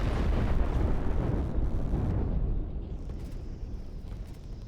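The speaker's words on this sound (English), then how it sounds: "That time it does destroy the launch pad though" A rocket explosion destroys a launch pad in the strategy game Line War, a loud, dense rumbling blast that fills the start and slowly thins into a lower, lingering roar.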